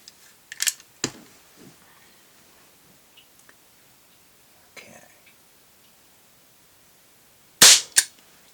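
A Crosman air pistol fitted with an 8-inch barrel fires a few sharp, close cracks, two early and two in quick succession near the end, separated by quiet with faint handling noises.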